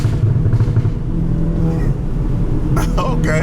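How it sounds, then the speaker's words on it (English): A modified Volkswagen Golf GTI exhaust rumbles loudly close by, with sharp crackling pops near the end as the throttle is released, while people talk over it. "every time you let your foot off the throttle, you downshift, it'll make the loudest backfires."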